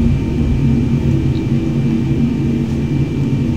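A Boeing 747 jet roars steadily during its takeoff roll just after rotation, a loud continuous engine rumble and whine heard from inside the aircraft with no pauses.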